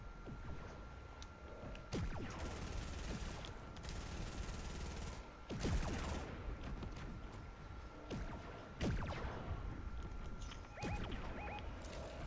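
Gunfire rattles in a Fortnite match as rapid, sharp bursts of shots with mechanical clicks come and go, set against a steady electronic game tone and background action.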